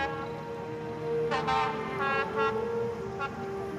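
A train on an Albanian railway rumbles steadily while a horn sounds in several short toots, moderately close, with no talking.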